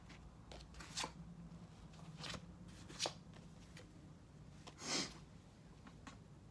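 Tarot cards are shuffled in a quiet room, giving faint, close papery riffles and soft slaps in short irregular bursts, with one fuller shuffle near the end.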